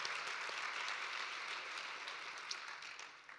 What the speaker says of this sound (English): I'll ask you to clap to acknowledge her work